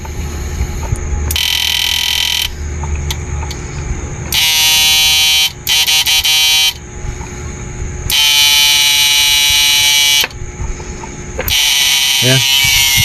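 Buzzing from an old-model 99900W inverter under repair, its tone shifting and cutting in and out in repeated bursts, loud and close, with stretches of lower background hum between them.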